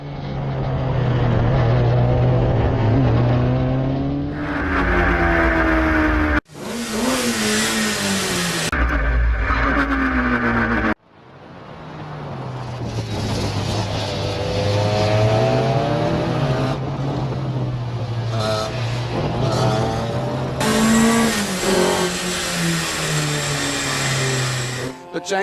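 Clubmans Sports Prototype race cars at Anglesey Coastal circuit, engines screaming and revving through gear changes as cars pass close and loud, with a commentator talking over the roar throughout.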